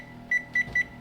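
A kitchen timer gives three short, evenly spaced electronic beeps, clear and close over a quiet room.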